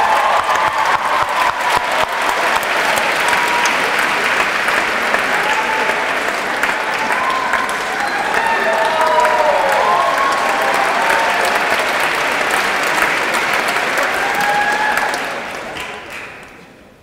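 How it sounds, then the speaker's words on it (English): A crowd at a poetry slam gives a poet sustained, loud applause with cheers and whoops woven through. The clapping holds steady for about fifteen seconds, then fades out. "Applaud the poet! And keep that applause going."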